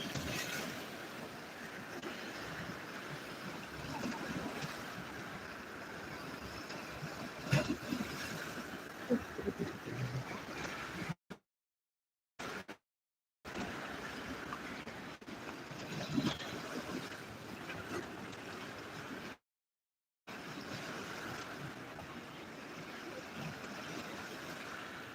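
Sea waves rolling in at a beach, filmed very close up with a GoPro, heard as a continuous loud rush of surf and wind buffeting the microphone, with a few brief dropouts.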